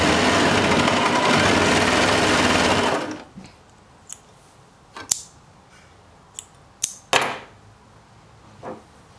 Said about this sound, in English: So I'm gonna need my sewing machine to be able to do that